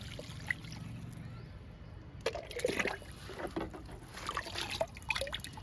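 Liquid splashes and trickles onto pomegranate plants outdoors, a faint, uneven run of drips and pattering bursts after a quieter low rumble at the start, with no voices.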